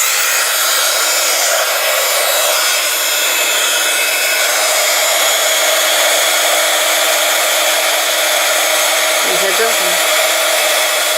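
Heat gun blowing hot air over an art journal page, a loud, steady, close whoosh that runs unbroken the whole time, with one short spoken word near the end.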